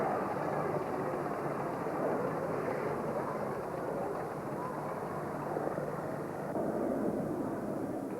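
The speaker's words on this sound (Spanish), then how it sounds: "Sus motores, refrigerados por líquido, se recalientan muy rápidamente cuando no vuelan." A steady, heavy roar of liquid-cooled warbird aircraft engines taxiing rumbles continuously at a moderate distance, with a broad droning tone and no pauses.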